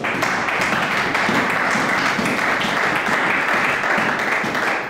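A church congregation bursts into applause, a dense, even wash of many hands clapping that holds at full strength for several seconds with no break.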